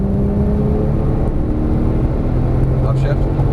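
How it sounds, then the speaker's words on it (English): A Porsche 911 Turbo S engine accelerates at full throttle, a steady loud drone with a slowly rising tone, heard from inside the car. "Full throttle out."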